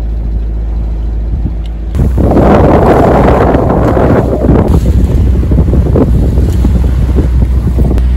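A sailboat sails upwind through rough water toward the Lesser Antilles, wind buffeting the microphone and waves splashing loudly against the hull after a quieter opening moment.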